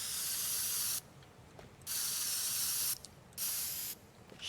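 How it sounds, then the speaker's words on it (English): A spray can hisses in the video game Teardown, three sharp bursts of steady aerosol spray separated by brief pauses, loud and alone. "Spray can."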